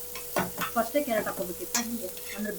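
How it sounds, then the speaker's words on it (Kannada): Carrots fry in a pan for a pasta dish, with a steady sizzle and repeated scrapes and clinks from a spoon stirring the pieces. "ಈ ತರಕಾರಿ ಅದು ಕ್ಯಾರೆಟ್ ಸ್ವಲ್ಪ ಫ್ರೈ ಆದಮೇಲೆ ತರಕಾರಿ ಹಾಕ್ತೀವಿ"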